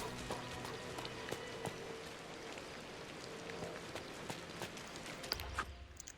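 Rain falling in the video game Dreamlight Valley, a soft, steady patter of drops on surfaces with scattered brighter taps, quiet and continuous, with faint other game sounds near the end.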